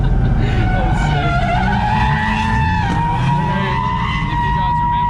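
Drift car skidding at Queensland Raceway, a loud continuous tire squeal with the howl of a revving engine, sustained and close over a constant roar.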